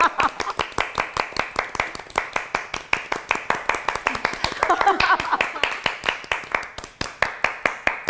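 A group of students and team members at a live coaching session claps hands in a fast, steady, even rhythm, with a voice briefly rising over the claps.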